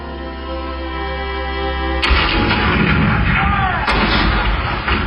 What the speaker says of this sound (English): 1861, Fort Sumter, with cannons spoke for war